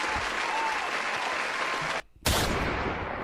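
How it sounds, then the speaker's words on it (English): Audience applause, a steady wash of clapping from a crowd that briefly cuts out to silence and then resumes at full strength. "Round of applause, King."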